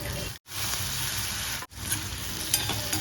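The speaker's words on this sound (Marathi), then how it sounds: "एक मिनिट कांदा भाजला ना की त्यावर बटाट्याच्या फोडी घालायच्या" Potato pieces sauté with onion in oil in a pan for a Konkani-style fresh cashew curry. A loud, steady sizzle is close by, broken by two brief silences, with a stirring scrape near the end.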